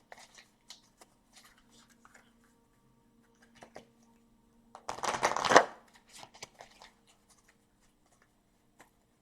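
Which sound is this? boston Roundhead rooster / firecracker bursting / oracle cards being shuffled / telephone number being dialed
oracle cards being shuffled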